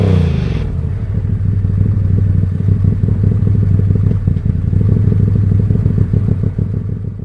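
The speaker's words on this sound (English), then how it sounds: "you can hear the idle went up" A Ford Maverick's engine idles at raised revs, a steady close rumbling drone with a faint fast pulse, running alone without voices.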